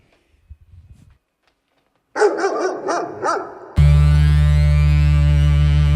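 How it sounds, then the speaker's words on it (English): Dogs bark in a rapid, loud burst within a track played at a live hip-hop kitchen session, followed by a sudden, sustained, loud tonal music bed. "Wild dogs, man."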